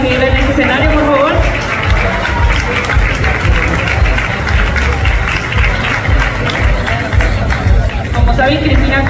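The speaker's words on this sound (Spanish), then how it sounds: "Fuerte el aplauso para recibirla en este escenario, por favor." A Miss México audience gives loud, sustained applause for Cristina Cuellar as she comes onstage, a continuous wash of clapping mixed with crowd noise.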